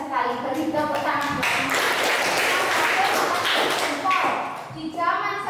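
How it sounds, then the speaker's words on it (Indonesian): Schoolchildren clap together in a classroom, a dense steady patter lasting several seconds, with young voices and an adult talking over and around it. "Beri tepuk tangan."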